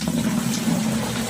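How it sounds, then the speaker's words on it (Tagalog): Hot boiled water poured into a basin, a steady close rushing splash with a low churning hum, continuous and unbroken with no voices. "isasalin ko na siya sa isang batya"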